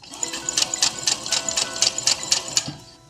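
A sewing machine stitches a crocheted yarn piece onto felt, a rapid run of evenly spaced clicking needle strokes close by, steady and unaccompanied by talk.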